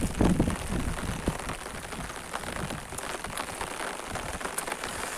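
Heavy rain falls on a village under a rumbling, cloudy sky, a thick continuous patter and hiss of drops striking nearby surfaces, loud and unbroken throughout.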